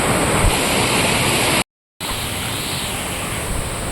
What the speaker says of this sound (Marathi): पर्यामध्ये जाम पाणी आलेलं आहे